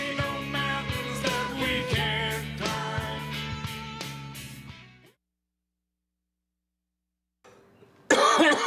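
A cough from a classic film follows several seconds of music and a silent gap, then bursts in sharply and loudly at the very end.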